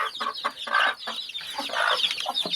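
Several hens cluck and chatter at close range in a farm poultry setting, the calls coming in short uneven bursts that overlap without pause.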